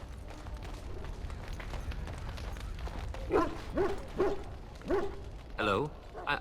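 Dogs in a kennel in Dragon Age: Origins bark in a string of short, sharp yelps and woofs over a low background bustle, five or so distinct barks close by.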